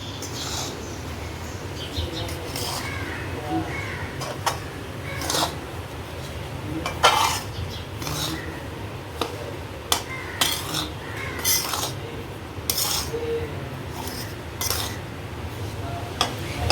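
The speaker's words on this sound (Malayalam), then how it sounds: "പഞ്ചസാര പൊടിച്ചതിലിട്ട് ഇതെല്ലാം കൂടെ നന്നായി മിക്സ് ചെയ്യാം." Panjiri being mixed with powdered sugar, a sweet dish for Janmashtami: steady scraping and clinking of a spoon against a bowl, with scattered sharper taps, close and moderately quiet with no talk.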